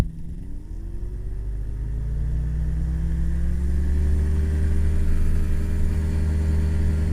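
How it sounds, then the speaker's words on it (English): Light aircraft engine run up to full throttle for takeoff, a steady droning hum that grows louder and slightly higher over the first seconds, then holds a strong even roar. "you're stabilized, full throttle, and off we go."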